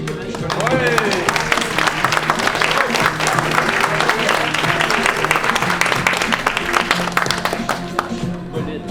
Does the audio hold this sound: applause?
yes